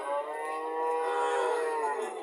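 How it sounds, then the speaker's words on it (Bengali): Young buffalo calves at a cattle market in Comilla let out a long, drawn-out low moo, loud and close, sustained for a couple of seconds without talk. "আপনারা দেখতেছেন এখানে 2টা মহিষের বাচ্চা আছে"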